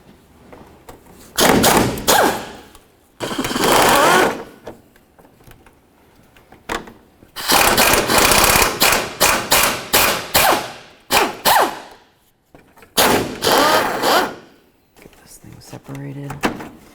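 Mounting bolts coming off the bumper cover of a 2004-2006 Scion xB, heard as repeated bursts of sharp, loud clatter and rattling separated by short quiet gaps, with no one talking.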